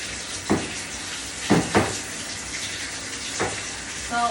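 Shower water runs steadily into a bathtub, giving a constant hissing spray broken by a few brief splashy surges as hair is washed, with a voice speaking faintly at times.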